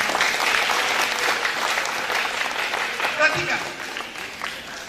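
Audience applause at a church seminar on the end times, a dense wash of clapping from a large room that holds steady and then thins out near the end, with a voice speaking briefly over it.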